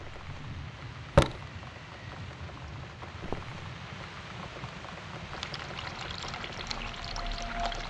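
In the video game The Cat Lady, water pours steadily to make coffee, a continuous watery splash after a sharp click, with the flow brightening and thinning toward the end; no voices.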